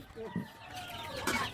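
Chicks and chickens, some of them sick, cluck faintly in a brief burst at a home, with soft background noise around them.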